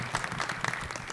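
A brief burst of steady applause from a convention panel audience, many hands clapping together at moderate volume.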